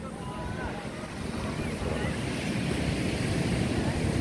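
Afternoon surf and wind at Pantai Padang beach, a rushing wash of waves with buffeting wind noise on the microphone, swelling slightly louder toward the end.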